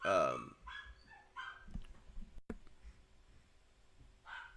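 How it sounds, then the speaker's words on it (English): A dog barks once, close and loud, followed by faint scuffling and a brief later yelp-like burst in an indoor room. "I'm just going to quiet my dog."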